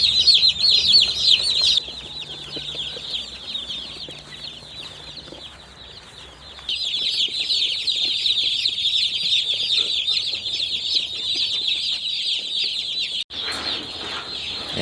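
A crowd of young chicks peeps constantly around a waterer, a dense, high, shrill chorus close by that drops briefly mid-way before rising again.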